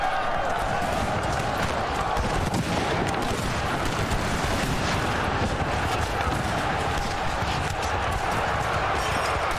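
Napoleon Total War battle: a continuous, dense roar of distant gunfire and cannon rumble with mixed clatter, loud and unbroken throughout, with no distinct voices on top.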